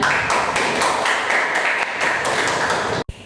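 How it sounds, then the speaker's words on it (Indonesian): Loud, dense classroom applause from students after a group presentation in an Islamic religious education lesson, a steady wash of many hands clapping that stops abruptly near the end. "Tepuk tangan semuanya."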